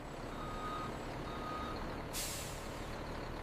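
A truck backs up with a faint, steady string of reversing beeps over low engine rumble, then a sharp hiss of air brakes releasing near the end.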